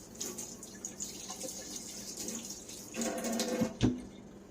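Tap water runs close by for a few seconds as something is rinsed, a soft steady splashing flow that swells louder near the end.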